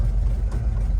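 A 1964 Chevrolet C60 truck with an inline 292 six-cylinder engine idles in a deep, steady low rumble, heard loud and close for about a second.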